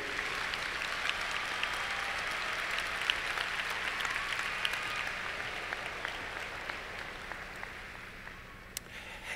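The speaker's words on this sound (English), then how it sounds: "This applause is for you, Nikki." Warm applause rolls through a graduation ceremony crowd, steady and moderately distant, easing slightly toward the end without any talking.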